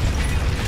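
A barrel explodes in Tomb Raider (2013), a short, loud, dense burst with a low rumble and crackling debris, filling the whole moment without any talk.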